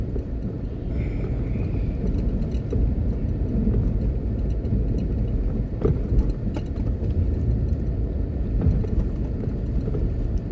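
A car drives along city roads in Kingston, Jamaica, with a steady low road and engine rumble heard from inside the cabin, continuous and moderately loud, with a few faint clicks and distant sounds.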